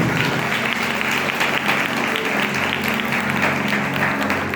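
Loud, steady applause from an audience at a Christian sermon on Jesus Christ, a dense wash of clapping that holds evenly throughout with no pauses.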